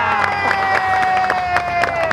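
A studio audience at an Indonesian comedy show claps and cheers in a dense, steady burst, with a crowd roar and a sustained musical tone running underneath throughout.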